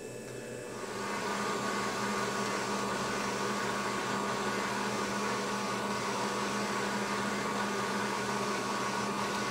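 A direct-to-garment printer printing onto a shirt, its steady mechanical whir rising in the first second and then holding as an even, moderately quiet machine drone with no talk.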